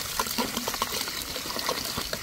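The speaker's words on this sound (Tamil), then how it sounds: "தண்ணி ஊற்று தம்பி." Water is poured into a pot of snake gourd kootu during cooking, a continuous splashing trickle heard close up with no talking.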